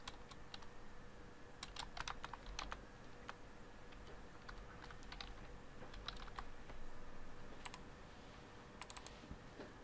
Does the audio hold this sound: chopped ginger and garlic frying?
no